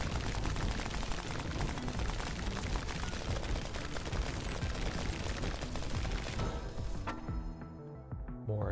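Mech weapons in the Demon Hunt bullet-heaven video game fire in a dense, continuous barrage of rapid shots and blasts, loud and unbroken before thinning out near the end.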